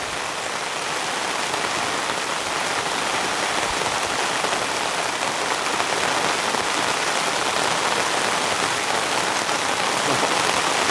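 A downpour hammers steadily at a rainy campsite, a thick, continuous wash of close rain noise at constant loudness from start to finish, with no speech or other sounds breaking through.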